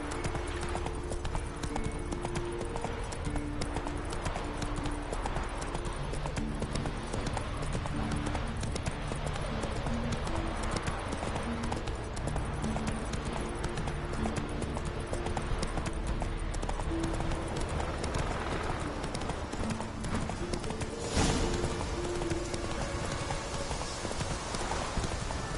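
Steady galloping hoofbeats from Roach, the horse in The Witcher 3, carry on for a long stretch over a game soundscape and music, with a sharp impact near the end.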